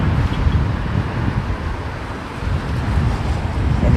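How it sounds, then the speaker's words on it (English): Blustery southwesterly wind buffets the microphone at an airport, a steady loud broadband rumble that swells and eases in gusts throughout, with no voices. "She's looking pretty blustery today, is old Mother Nature. Southwesterly, direct."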